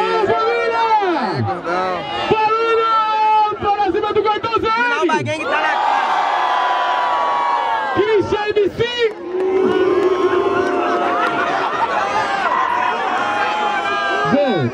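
Crowd at a Brazilian rap battle, the Batalha da Aldeia in Barueri, roaring and booing in loud swelling bursts while a voice shouts over the noise, close and dense throughout.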